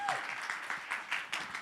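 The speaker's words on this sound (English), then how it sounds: "Round of applause." Audience applause at a festival pitch showcase, a brief burst of steady clapping from a seated crowd that rises in pulses and carries on to the end.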